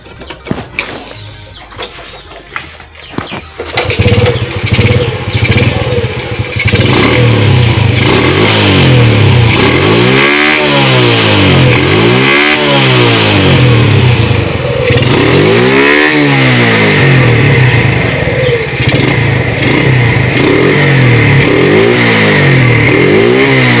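Honda Grand motorcycle engine with a modified CDI pickup, starting with a faint idle and then revving loudly and repeatedly in rising and falling sweeps, close to the microphone.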